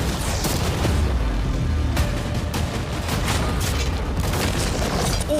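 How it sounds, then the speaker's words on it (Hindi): Cannons fire cannonballs at a new yacht, heavy booms and crashing impacts mixed with clattering debris and rumbling noise. "अब हम तुम्हारी नई यॉट पर कैनन्स को शूट करने वाले हैं।"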